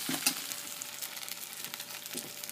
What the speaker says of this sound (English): Once again, stir frying stuff in one hand.